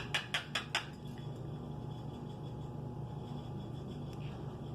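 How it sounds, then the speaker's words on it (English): A metal whisk is set down in a kitchen while scrambled eggs are made, giving four quick bright clinks at the start, close and fairly loud, then only a low room hum. "put my whisk over here so I can wash it in a little bit"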